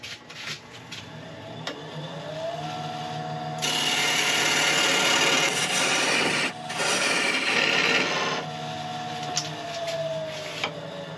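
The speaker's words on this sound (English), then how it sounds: "So I'm just going to quickly peel down, do a peeling cut from this top edge" A gouge peels down from the top edge of a spinning greenheart and purpleheart mallet blank on a wood lathe, with a loud steady rasping scrape over the motor's whine, pausing briefly and then resuming.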